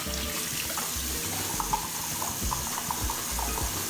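Warm water running from a bathroom tap as a head is wetted before shaving, a steady close splashing flow with a few small splatters, no talking.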